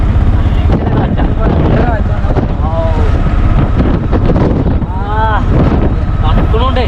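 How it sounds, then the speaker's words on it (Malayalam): Strong wind buffets the microphone outdoors while travelling by auto-rickshaw near Bijapur fort, a loud constant roaring rush, with people talking over it throughout. "ഇവിടെ അതിശക്തമായ കാറ്റാണ്, നല്ല കാറ്റടിക്കുന്നുണ്ട്"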